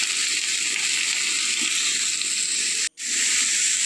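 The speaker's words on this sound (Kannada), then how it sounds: "ಕಟ್ ಮಾಡಿಟ್ಟ ಬೆಳ್ಳುಳ್ಳಿ, ಶುಂಠಿ ಹಾಕಿ ಫ್ರೈ ಮಾಡಿ." Garlic and ginger, with onions, fry in ghee as a loud, dense hiss that runs on steadily and cuts out briefly near the end before resuming.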